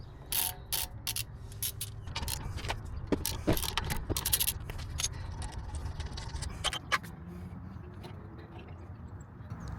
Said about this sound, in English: Remove the bolts holding the caliper in place with a